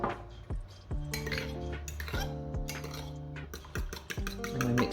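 A utensil clinks and scrapes against a bowl while eggs and milk are stirred together, with repeated sharp taps and rhythmic stirring strokes, close and quiet with no talk.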